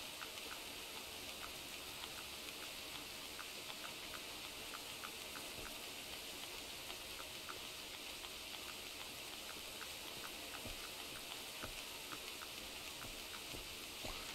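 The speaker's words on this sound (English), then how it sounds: "you gotta love hearing the sound of rain, but yet you got snowflakes falling in front of you" Rain falling in the hunting video game theHunter, a faint, even hiss of drops with light scattered ticks running steadily throughout, with no voices.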